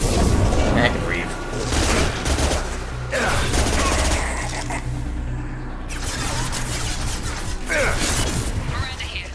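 Heavy, sustained gunfire rolls through a Mass Effect 2 firefight, with dense bursts and booming impacts layered over game music, loud and continuous with brief swells.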